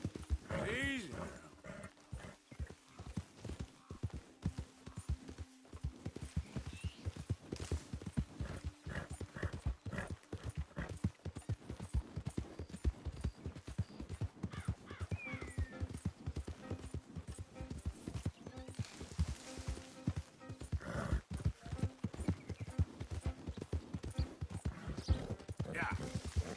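Horse hooves clip-clop in a steady, continuous rhythm in the video game Red Dead Redemption 2, with an occasional whinny mixed in.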